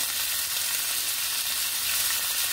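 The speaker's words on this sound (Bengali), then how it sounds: "আলুটাকে একটু নেড়ে ভেজে নেব।" Potatoes seasoned with salt and turmeric fry in hot oil, giving a steady, close hiss with no breaks and no voices across the short stretch.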